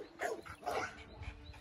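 An American bully pit bull barks twice, close and loud, two short deep woofs about half a second apart with a faint whimper after.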